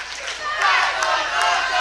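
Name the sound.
wrestling event crowd cheering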